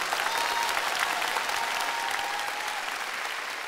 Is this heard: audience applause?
yes